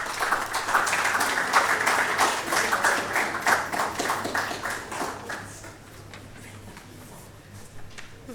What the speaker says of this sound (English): Let us meet them with a round of applause.